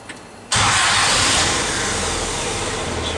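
A Willys L-head Jeep engine, not run for a while and started cold without choke, catches suddenly after quiet and settles into a loud, steady running roar close by.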